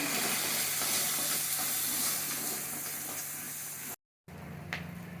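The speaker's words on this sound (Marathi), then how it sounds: "काश्मीर लाल मिरची एक चमचा घातले आहे मी आता छान परतून घेऊया" Spices with turmeric and Kashmiri red chili powder fry in hot oil for a yogurt misal, giving a loud, steady sizzle and hiss under occasional stirring, then a short gap before the sizzling continues more softly.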